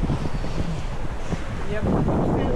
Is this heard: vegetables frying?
no